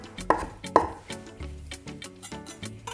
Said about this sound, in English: you want to run your knife along it just like that